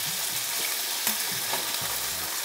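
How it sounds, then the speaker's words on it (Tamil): Dry fish, banana karuvadu, deep frying in oil over low heat, giving a steady close hiss and crackle of bubbling oil with no voices. "கொஞ்ச நேரம் டீப் ஃப்ரை."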